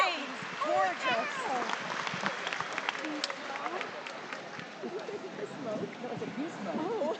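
Coworkers cheer and applaud for an anthem singer at the Nebraska State Fair, a steady crowd roar with scattered whoops and clapping that runs through the whole stretch, with voices mixed in.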